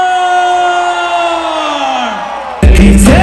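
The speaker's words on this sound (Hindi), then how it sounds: "एक बार जोरदार तालियां हो गए फॉर अक्षय" A concert crowd at an arena show on The Entertainers Tour 2023 with Akshay Kumar bursts into loud cheering and applause after a long, fading held tone.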